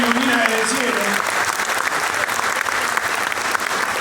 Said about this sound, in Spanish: como decía el Papa Francisco, por quien también pido un gran aplauso